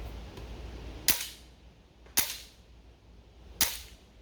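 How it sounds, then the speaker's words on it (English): A homemade semi-automatic BB and paintball hybrid gun fires three sharp, loud cracks at irregular spacing, each with a brief decaying tail, heard up close over a low background hiss with no talking. "Let me do a quick shot with it close up so you can kind of see what I mean."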